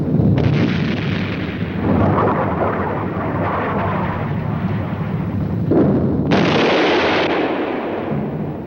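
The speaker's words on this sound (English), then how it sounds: "Fire is still coming in, but I think I've spotted the enemy battery." Incoming artillery shell fire in a 1953 war film, a loud continuous roar of blasts and rumbling, with a sharp new burst near the end, no talk.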